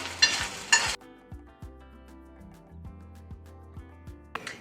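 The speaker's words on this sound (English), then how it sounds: "Start by throwing one into the pan. And we don't really have to grill it for too long." A mopani worm burger patty sizzles and fries in a pan, opening with a loud, brief burst of hissing, then settling into quieter stirring and scraping with low utensil knocks close by.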